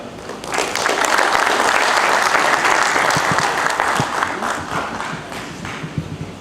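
An audience claps to welcome speaker Rajeev Pandya at a community gathering, dense sustained applause that swells quickly, holds for several seconds, then thins into scattered claps.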